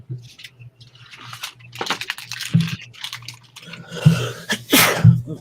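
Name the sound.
sneeze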